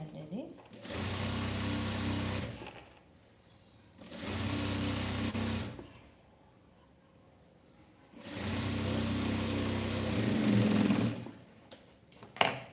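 Sewing machine stitching a fabric lining to the main fabric, running in three separate bursts of steady whirring with quiet pauses between them.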